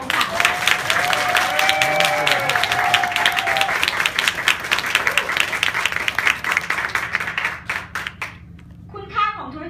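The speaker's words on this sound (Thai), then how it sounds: "ขอเสียงปรบมือดังๆให้กับเอ็กซ์เพรสไดมอนด์นะคะ" Loud audience applause at a party fills the room, dense clapping throughout that thins into scattered claps near the end, with someone speaking over it on a PA.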